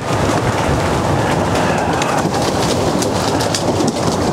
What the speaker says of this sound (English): Might start raining hard now, right?